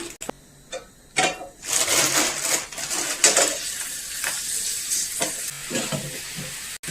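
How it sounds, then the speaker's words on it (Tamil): Oil crackles and sizzles in bursts as ring-shaped appalam fries, with occasional clatter and stirring sounds nearby. "ஃபர்ஸ்ட் வந்து இந்த மோதிர அப்பளம் பொரிக்கலாம்"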